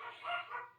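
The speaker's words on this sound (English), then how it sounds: "excuse my dogs, they're barking at the wind again" Pet dogs bark briefly at the wind indoors at a craft table, one short muffled bark or yip heard at a distance, fairly faint.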